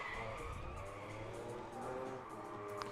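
Nissan 350Z cars drift in tandem at a Sebring drift event, their engines roaring and tires squealing in a steady, distant, faint wash that runs the whole clip.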